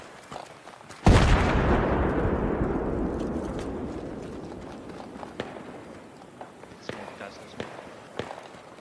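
Battlefield 3 Project Reality mod gameplay with a sudden loud blast that booms and slowly decays, followed by scattered distant gunshot cracks and footsteps, while a player talks.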